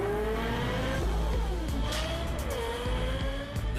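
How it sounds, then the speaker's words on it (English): A Lexus supercar engine, acoustically tuned with Yamaha Music, revs loudly and continuously with rising and falling pitch sweeps, close up and with no voices over it. "We enhanced the driver's sensation of speed in the Lexus supercar by partnering with the craftsmen at Yamaha Music to acoustically tune our engine."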